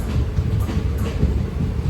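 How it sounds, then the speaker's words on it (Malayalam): A train pulls into Kollengode railway station at the end of its Kerala run, a close, loud rumble of rolling wheels and carriages with faint rhythmic rattles, steady throughout and free of speech. "4:26 ട്രെയിൻ ഇപ്പോൾ കൊല്ലംകോട് റെയിൽവേ സ്റ്റേഷനിലേക്ക് ഇതാ എത്തുകയാണ്"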